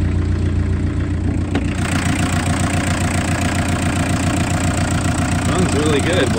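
A 1981 Volkswagen Rabbit pickup diesel engine idles close by with a steady, rhythmic knocking clatter, while a person talks over it.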